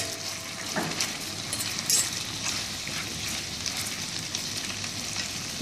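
Lychees stirred through pale caramel in a small pan, giving a steady soft sizzle with scraping stir strokes and light utensil clinks throughout, alone and close.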